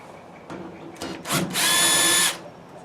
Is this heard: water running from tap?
no